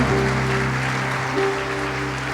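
Church congregation applauding together in a dense, steady wash of clapping, moderately loud and continuous throughout with no voices over it.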